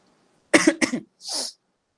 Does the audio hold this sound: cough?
yes